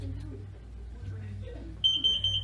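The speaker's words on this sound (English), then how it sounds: "So now I'm gonna show you what's gonna happen if you have a carbon monoxide sensor." A carbon monoxide alarm being demonstrated at a church wellness fair sounds a steady high-pitched electronic beeping in its last half second. It comes through loud and clear over a low background hum and murmur.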